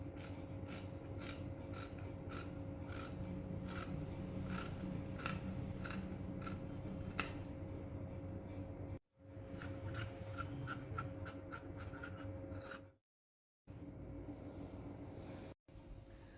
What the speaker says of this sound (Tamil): இப்போ இந்த மார்க்கிங்ஸை நம்ம கட் பண்ணிக்கலாம்